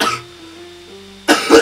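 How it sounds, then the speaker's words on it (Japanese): A person coughs hard twice, with a short burst at the start and a harsher one at the end. Between them is a quiet pause with faint game music. "死にそうなぐらい咳がやばいんですよ。"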